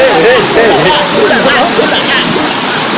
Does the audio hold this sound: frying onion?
no